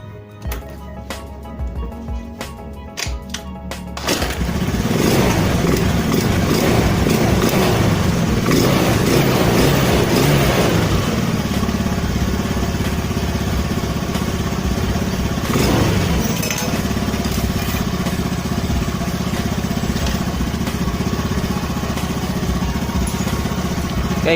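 A Honda Beat Spacy scooter engine runs steadily after its carburetor idle is adjusted, starting with a few sputtering catches and then settling into a loud, close, even idle hum that continues for a long stretch.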